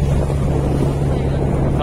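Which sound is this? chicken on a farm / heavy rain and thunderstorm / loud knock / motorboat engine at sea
motorboat engine at sea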